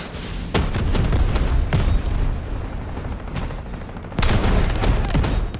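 Gunfire in the shooter game Delta Force: loud bursts of rapid shots and booming blasts come in two intense clusters separated by a quieter stretch of distant battle noise, with no talking.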